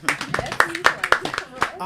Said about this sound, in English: Can we just give a clap for